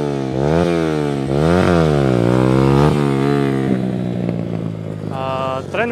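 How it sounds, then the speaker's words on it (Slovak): A modified Honda CBR 125 motorcycle engine at a stunt riding school revs repeatedly in rising and falling pulses, loud and close, then settles into a rougher, lower idle. "Trenuje sa to na upravenej Honde CBR 125, takže nie je to žiadna silná motorka."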